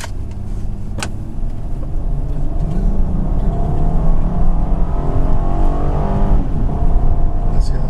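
A 2014 Honda Pilot AWD engine accelerates with a steady, dense drone that rises through smooth gear changes, heard from inside the cabin with some road rumble.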